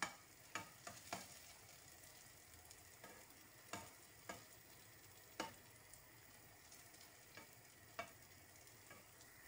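Sweet potato fries in a pan with a steady soft sizzle, broken by scattered sharp pops and crackles of hot oil, close and unaccompanied by speech.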